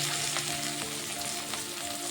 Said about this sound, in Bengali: তেল গরম হয়ে গেছে, এখন বেগুনটা দিয়ে দেব।